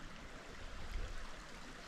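A wilderness stream in the North Laurel Fork area of West Virginia flows below a confluence, giving a soft, continuous rushing wash heard faintly with no voices.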